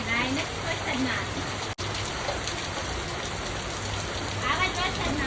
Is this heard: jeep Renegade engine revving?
no